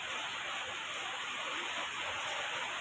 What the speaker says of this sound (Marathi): खूप पाऊस पडतोय, रात्रभर असाच पाऊस आहे